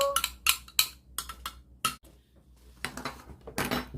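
Utensils mixing ingredients in a bowl, with irregular clinks and scrapes of metal against the dish in quick bursts and short pauses between them.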